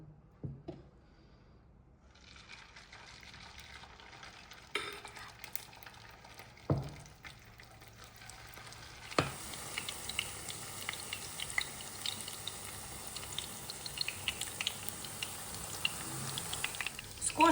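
Liver fritters sizzle and crackle in a hot frying pan, starting quietly and growing into a steady, dense frying hiss after a few clinks and thumps.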